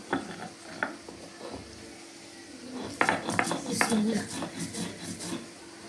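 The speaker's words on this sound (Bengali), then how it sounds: "একটু লবণ দিয়ে আগে এটাকে বেটে নিব।" Dried chili is ground with salt on a flat grinding stone (pata) for a chepa shutki bhorta; irregular scraping and knocking sounds nearby grow busier and louder in the second half.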